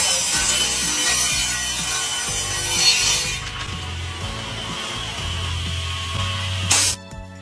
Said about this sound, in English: It's barely even touching the wood. That's one hell of a sharp blade.